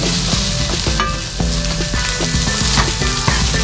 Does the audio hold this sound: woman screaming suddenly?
no